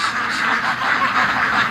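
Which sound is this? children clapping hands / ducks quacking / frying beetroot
ducks quacking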